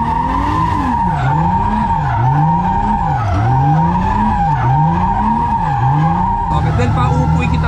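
A car's tires squeal steadily during a drift, a sustained screeching whine that rises and falls in regular sweeps as the engine drones underneath, loud and close, with a shift in tone near the end.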